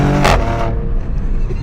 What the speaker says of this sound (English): does this car sound amazing